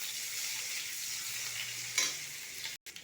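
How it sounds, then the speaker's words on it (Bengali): Nigella seeds, green chili and chopped onion hitting hot oil, a loud even hiss of frying up close with a brief stir and a sharp cut at the end, no speech. "আমি এরপরে দিয়ে দিচ্ছি ফোড়নে কালো জিরে, কাঁচা লঙ্কা, পেঁয়াজ কুচি।"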